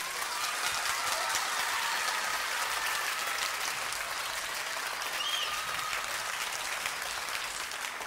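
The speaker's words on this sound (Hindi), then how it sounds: "आप लोगों ने तालियां बजानी है" A studio audience at a Ramadan game show claps steadily in a dense, even wash of applause that holds for the full stretch without pause.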